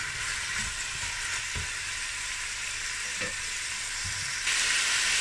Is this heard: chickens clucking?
no